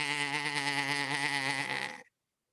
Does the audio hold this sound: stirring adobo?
no